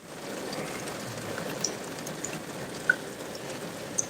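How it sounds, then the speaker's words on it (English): Rain falling outside a window, a steady soft hiss of drops with a few sharp isolated drips standing out, continuous and moderately quiet with no voices. "Stuck my head out the window. It's raining out down here, dude."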